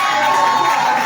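Church congregation at a Pentecost seminar cheers and acclaims the Lord, a brief swell of crowd voices with a steady tonal hum underneath, loud and close, lasting about a second.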